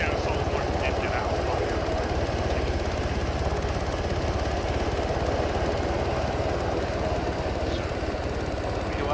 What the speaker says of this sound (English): Don't fall out of the helicopter.